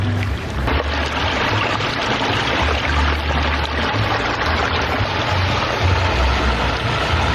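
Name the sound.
water flowing over koi pond spillway waterfall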